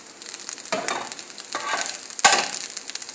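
Egg being stirred into fried rice in a hot pan, with a continuous close sizzle broken by three scraping strokes of a spatula, no talking.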